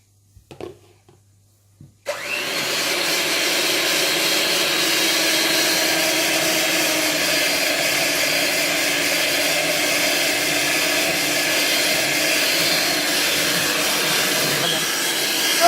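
An electric mixer whipping cream for a banoffee pie switches on after about two seconds of quiet handling noise, then runs as a loud, steady motor whine and whir, close and unbroken to the end.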